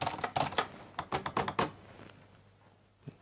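Keys clack on a Hermes 3000 manual typewriter in a quick burst of about a dozen sharp strikes, a short pause, then one last isolated tap, close and clear.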